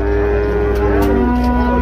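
Cattle at a livestock fair give a long, loud moo, close by and alone.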